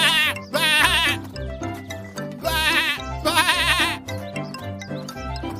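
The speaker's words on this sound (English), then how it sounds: "he mingled with the dancing lambs by baaing." Lambs baaing in a children's story, with loud, close bleats that repeat in wavering bursts, layered over a busy rhythmic backing.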